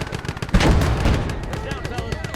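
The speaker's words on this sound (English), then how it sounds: "we've got a mortar that's giving us some grief here now" Mortar and gunfire in a Kelly's Heroes battle video game, with a loud close boom followed by rapid overlapping shots and rumbling impacts in a short burst.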